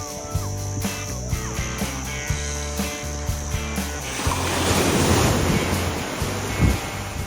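Ocean surf breaking on a Fraser Island (K'gari) beach, a wash of waves that swells louder partway through over steady wind noise, with a repeating tonal hum present early on and no speech.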